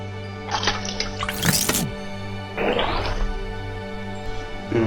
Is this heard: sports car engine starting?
no